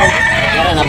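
A rooster crows at a busy chicken market in Tabunok, Talisay, Cebu, its harmonic call fairly close and continuous across the short moment, with crowd noise beneath.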